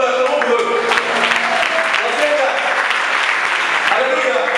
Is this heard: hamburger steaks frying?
no